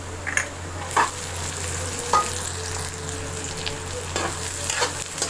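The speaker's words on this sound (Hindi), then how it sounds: "अब इसको 5 से 10 मिनट और फ्राई करेंगे ताकि जो हरी मिर्ची है वो भी अच्छी तरह से फ्राई हो जाए" Onions and green chilies sizzle steadily in a pan, with a few louder stirring scrapes and clinks breaking through the constant frying hiss. No one talks.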